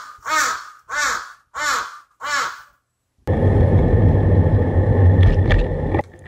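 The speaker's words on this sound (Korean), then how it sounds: "나무 위에 까마귀가 제 짐을 노리고 있었습니다." A crow perched in a tree near a campground in Hokkaido gives four loud, harsh caws at an even pace. Each call is close and clear. Road noise from a passing vehicle rises just after the calls end.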